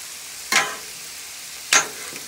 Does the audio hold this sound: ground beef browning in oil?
yes